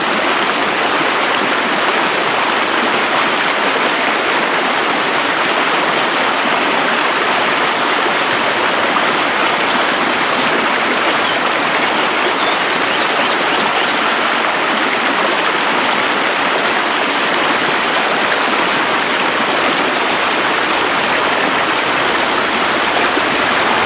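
A river stream flowing in a littered natural spot, a loud, dense, unbroken rush of water filling the whole stretch with no voices.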